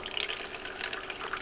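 Water runs steadily through an oil spill cleanup processing unit, a continuous close hiss and gurgle of flowing liquid with no pauses.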